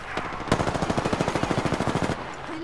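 Rapid automatic gunfire in a video game: one sustained burst of evenly spaced shots, about a dozen and a half per second, loud and close, stopping abruptly after around two seconds.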